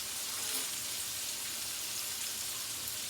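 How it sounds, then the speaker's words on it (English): Chicken fillet frying in a pan, a steady even sizzle like light rain, constant and moderately close with no voices. "while the chicken fillet is frying"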